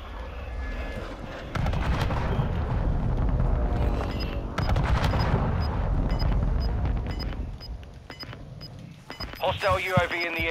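Explosions and gunfire from a close air support strike in Call of Duty Warzone, with heavy booming blasts and crackling shots in rough bursts, loud and near, mixed with radio-style voices.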